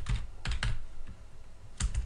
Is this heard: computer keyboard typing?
yes